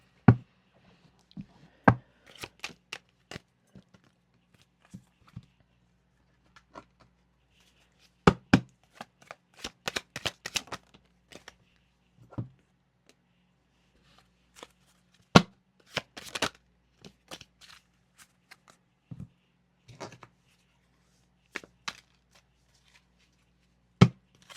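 Tarot deck being shuffled by hand in bursts of crisp riffling and tapping clicks, some dense clusters and scattered single snaps, close and fairly quiet with no talking.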